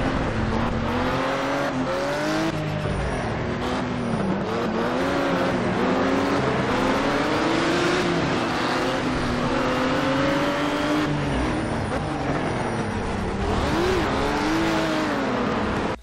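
Racing-game car engines rev and whine continuously, their pitch sweeping up and down through gear changes in a dense, steady roar with no talking.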